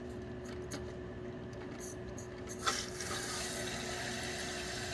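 Steady rush of water filling a toilet tank through a newly installed fill valve, continuous and fairly close, with a brief knock partway through and no talk.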